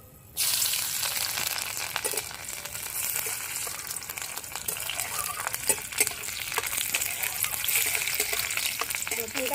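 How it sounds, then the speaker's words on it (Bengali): Split garlic cloves dropped into hot oil already seasoned with nigella seeds burst into a sudden loud sizzle that holds steady and crackling throughout, with faint scrapes and a soft voice underneath. "রসুনগুলো আমরা একটু চিড়ে চিড়ে নিয়েছি দুফালা করে এবার তেলের মধ্যে দিয়ে দেবো"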